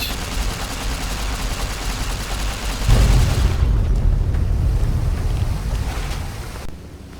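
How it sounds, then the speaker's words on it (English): A warhead detonating in a Fallout game, a heavy, sustained explosive rumble that surges louder midway through and then tapers off, with no talk over it. "Another warhead to detonate."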